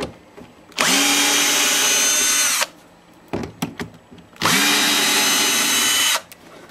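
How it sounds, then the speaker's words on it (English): A power drill removing Torx screws from a Karcher pressure washer whines in two long bursts of about two seconds each, with short clicks and rattles of handling between them. "Sure takes a lot less time to do it with a drill"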